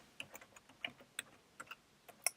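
Irregular light clicks of typing on a computer keyboard, a sparse handful of quiet keystrokes, close and alone.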